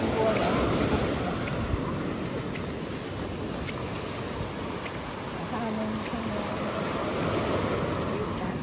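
Surf washing onto a wild, unspoilt beach at Hòn Thơm, Phú Quốc, a steady wash of breaking waves with wind buffeting the microphone, fairly faint and continuous.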